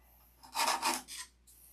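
A hand file rasping over wood in a woodwork setting, a few quick scraping strokes close by in a brief burst, with no talk.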